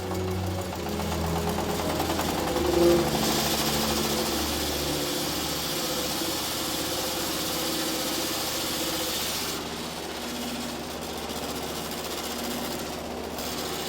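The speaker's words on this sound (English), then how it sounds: "the mill's employees rapidly turn it into the much-desired maize flour" An old, worn motor-driven mill grinds corn into maize flour, giving a steady, loud mechanical drone and rattle that runs throughout with no talking.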